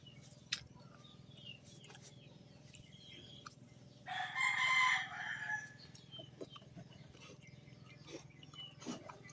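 A single rooster crows once at moderate distance against a quiet background with faint scattered clicks.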